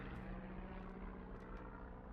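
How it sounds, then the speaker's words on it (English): A plane drones faintly somewhere overhead in a quiet outdoor scene in the game Firewatch: a low, steady, distant engine rumble with no talk. "I hear a plane somewhere."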